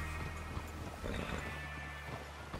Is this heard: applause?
no